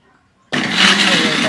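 A kitchen blender kicks on abruptly after near silence and runs in a loud, steady whir while blending ingredients for fried chicken with shrimp paste and lime leaves; voices talk underneath.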